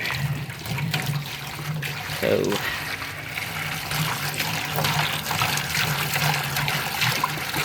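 A gallon of hot water pours steadily into a metal bucket with a continuous splashing rush, while a person speaks briefly over it.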